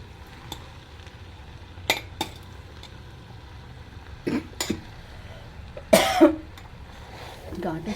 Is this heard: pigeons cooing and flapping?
no